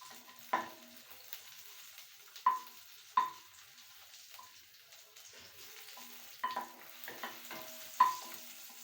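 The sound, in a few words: oil sizzling in pan for onion tomato chutney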